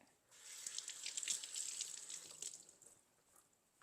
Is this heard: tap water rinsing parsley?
yes